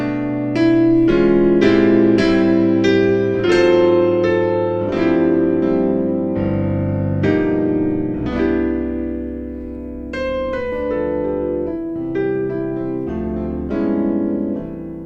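Solo jazz piano plays a Christmas intro that quotes a Christmas song, with rich sustained chords and melodic runs, close and clear with no talking.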